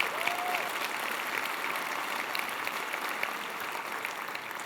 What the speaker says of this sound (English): You should be giving yourselves a round of applause.